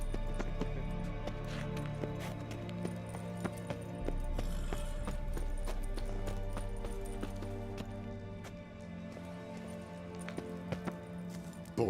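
Roach, a horse in Witcher 3, gallops with rapid, regular hoofbeats over a low droning game background, fairly loud and continuous.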